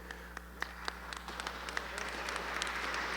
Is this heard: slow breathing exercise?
no